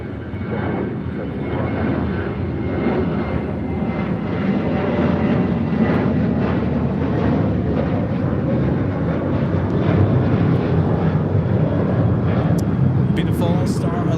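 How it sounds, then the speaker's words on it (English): A Singapore Airlines Boeing 777-300ER in Star Alliance livery taxis toward the gates at LAX, its jet engines a loud, steady roar that holds throughout, with voices talking over it. "Beautiful Star Alliance livery with Singapore Airlines 777-300ER heading into the gates."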